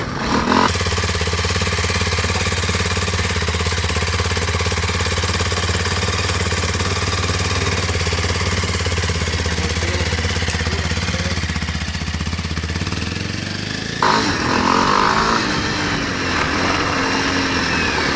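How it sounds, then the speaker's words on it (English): A 2020 Kawasaki KLX 230 dirt bike engine chugs steadily and loud up close as it pulls away in first gear, with a shift in tone near the end. "Just put it in first gear and let the clutch out"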